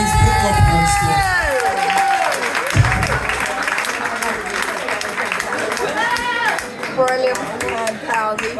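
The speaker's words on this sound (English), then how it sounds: "Big round of applause for these people up on stage." A live audience in a party setting applauds performers up on stage, with sustained dense clapping and some cheering filling the whole stretch, while voices and chatter carry through over the top.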